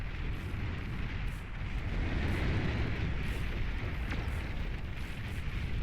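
Rumbling, continuous low booms of tremor artillery shelling in the real-time strategy game Beyond All Reason, a dense steady barrage filling the whole stretch with a rough, noisy roar and no clear separate blasts.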